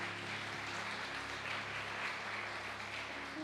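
A church congregation applauds in a faint, distant, steady patter of many hands under a low hum from instruments or sound equipment.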